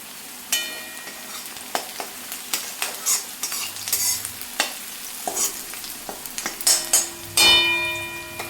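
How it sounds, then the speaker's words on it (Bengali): Onions frying in a pan while being made red-brown for a homemade pointed gourd bharta, a steady close sizzle broken by frequent sharp scrapes and clinks of a spatula stirring against the metal. "আর এদিকে পেঁয়াজটা লাল মোটামুটি হয়ে এসছে, আর একটু ভাজতে হবে।"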